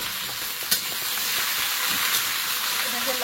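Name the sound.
okra and potatoes frying in a pan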